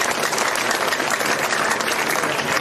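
Crowd applause at an outdoor BSP election rally in Assandh, Haryana, a dense, continuous round of clapping from many people, steady and loud throughout with no break.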